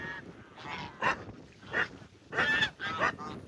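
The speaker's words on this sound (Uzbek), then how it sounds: "G'ozlarim sotiladi" Geese honk in several sharp, nasal calls, four or five bursts spaced irregularly over a few seconds, fairly close and clear above a quiet farmyard background.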